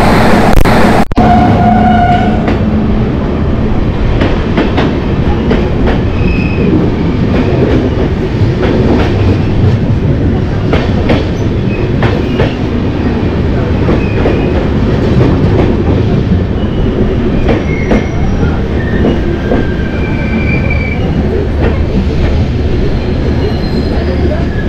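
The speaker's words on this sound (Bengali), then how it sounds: "আমাদের ট্রেন এই মুহূর্তে এসে পৌঁছলো বাঁকুড়া জংশন স্টেশনে।" The Howrah–Ranchi Intercity Express rolls loudly at Bankura Junction, with continuous wheel rumble, rhythmic clickety-clack over rail joints and intermittent high squeals from the wheels, heard from on board.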